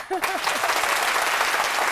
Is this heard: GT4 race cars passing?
no